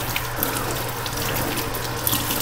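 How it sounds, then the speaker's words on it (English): Tap water runs steadily from a faucet onto a paper towel, a constant close splashing flow with no pauses. "I'm just going to take a piece of paper towel, get it nice and wet"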